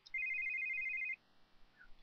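A phone in The Sims 3 video game rings with one steady electronic trill lasting about a second, clear and close, followed by near silence with faint game sounds.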